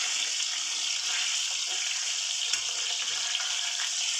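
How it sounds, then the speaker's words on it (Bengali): Katla fish pieces fry lightly in hot oil in a kadai, giving a steady, dense sizzling hiss that holds evenly throughout with a few small pops, fairly close and with no talking. "আমি মাছগুলোকে ভেজে নেবো হালকা।"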